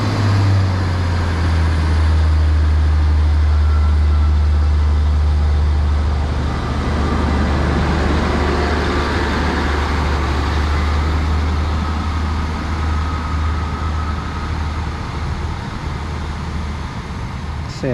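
British Rail Class 150 unit 150139 pulls out of Fenny Stratford station in Milton Keynes with a steady, loud diesel drone and low rumble that holds for the whole stretch.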